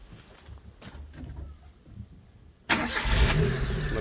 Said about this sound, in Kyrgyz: Бир басканда жүрдү, өзүңүздөр байкадыңыздар.